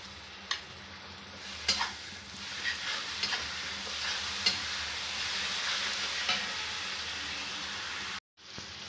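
Onion with chilli, ginger and garlic paste frying in a pan as a spiced masala, a steady close sizzle with occasional scraping stirs and light clicks, no voices.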